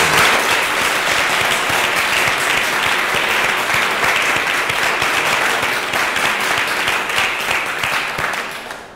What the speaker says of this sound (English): Can we give him a really warm round of applause?